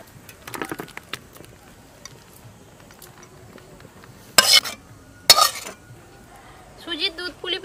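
Cooked semolina milk pitha (dudh puli) with date-palm jaggery is tipped out of a metal pan, giving a few sharp spoon clanks and scrapes between quiet stretches, followed by lighter clinking near the end.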